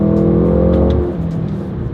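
A loud 2026 Mercedes-AMG GLC 43 engine roars and revs hard up close in Sport Plus mode, pulling strongly before the note eases slightly, with no voices over it.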